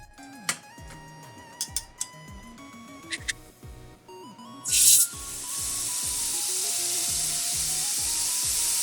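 Sirloin tip roast hits hot melted fat and a loud, steady searing sizzle starts abruptly and holds without a break, preceded by light clinks and handling noises.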